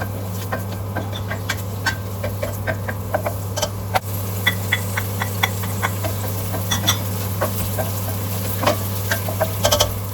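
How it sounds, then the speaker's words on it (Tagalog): Chili from the garden sautés in a pan for chicken neck adobo, a steady sizzle under repeated sharp taps and scrapes of a utensil against the pan, with a constant low hum underneath. "So, gigisa lang natin yan."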